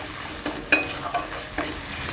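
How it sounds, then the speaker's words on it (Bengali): Ground spices and turmeric sautéing in a pan for koi fish curry, with a few quick stirring scrapes over a soft sizzle. "এবার সব মশলাগুলো খুব ভালো করে কষিয়ে নেব"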